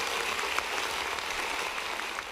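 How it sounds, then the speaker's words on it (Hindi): Audience applause at a school annual review: a dense, steady wash of clapping from a crowd that holds at an even level throughout, with no voices standing out. "इस पे भी तालियां बनती हैं।"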